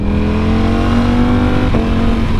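A 2018 Ducati Panigale V4 S motorcycle engine revs hard and steadily throughout, its loud, close, continuous roar holding one high idle pitch that dips briefly near the end, with no talking.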